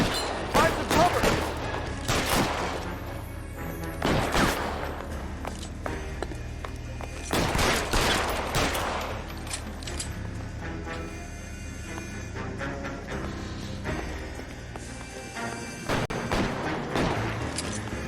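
Dense video game gunfire, with repeated bursts of shots and heavy thuds carrying on throughout, mixed with voices.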